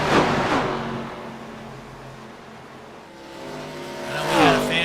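Race car engines rev and accelerate in the iRacing sim during the South Beach 200 stock car broadcast, a loud rising whine that dips mid-clip then climbs again with a sharp upward sweep near the end.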